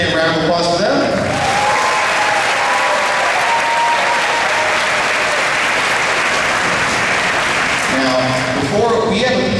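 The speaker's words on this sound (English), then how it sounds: "Round of applause for them" Loud, dense audience applause for a 7th and 8th grade school band at a concert, sustained for several seconds, with speech at the start and end.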